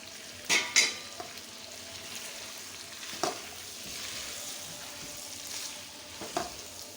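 Cauliflower, potato and tomato fry in a pan with a steady, soft sizzle. A few sharp clinks and scrapes of stirring rise above it, near and fairly quiet.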